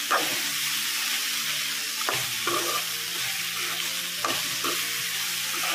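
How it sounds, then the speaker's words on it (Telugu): Raw prawns fry with onions in a pan, a continuous loud sizzle broken by a few stirring scrapes, with no talking. "ఈ పచ్చిరొయ్యలు కాబట్టి ఉల్లిపాయలతో పాటు వేపాలి."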